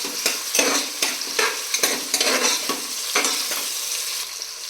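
Onions sizzle and fry in a pan for vegetable biryani, a steady bright hiss broken by repeated close scraping strokes of a spoon stirring them, with no voices.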